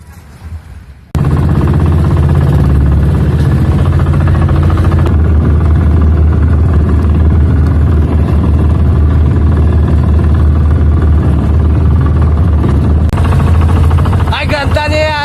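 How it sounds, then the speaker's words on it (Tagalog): Motorized outrigger boat (bangka) engine running steadily with a loud, continuous low drone that starts abruptly after a quiet moment and holds at constant level throughout. "So bali dalawang bangkang di motor yung gagamitin namin"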